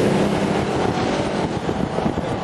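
Car roaring past in a close flyby, a loud continuous rush of engine and wind noise dominating throughout with no clear talk.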